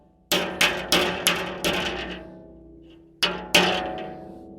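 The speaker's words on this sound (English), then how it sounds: "Put the swedge on one side, kind of like a heel dolly, and you tap it with a hammer" A hammer taps a swage held against a tooth of a Frick sawmill blade, giving sharp metallic ringing strikes: five quick hits, a pause, then two more, each close and loud and ringing out briefly.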